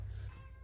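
A cat gives a short meow, brief and fairly faint, heard alone.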